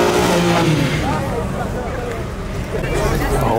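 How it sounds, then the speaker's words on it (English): A car doing a burnout at a Porsche event roars loudly and continuously, its engine revving and tires screeching close by while a crowd chatters underneath. "I guess this became a freaking burnout section"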